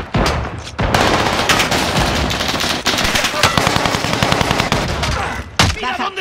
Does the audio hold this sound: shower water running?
no